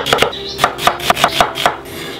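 A knife dicing onion into small cubes on a board, about ten crisp, evenly spaced chops in quick succession, close and clear, with no talking.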